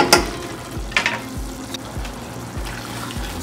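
Chicken with coriander powder, cumin powder and chicken masala sizzles in a hot pan, a steady frying crackle broken by regular scraping stir strokes, close and alone.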